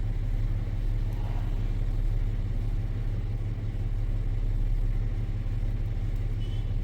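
A Chevrolet Silverado's engine idles at about 700 RPM, a steady, close low rumble with an even pulse and no revving, alone without talk.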